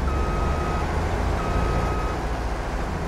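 Two steady electronic reversing beeps sound from a loader in Farming Simulator 22, playing over a dense, continuous rumble of engine and machinery.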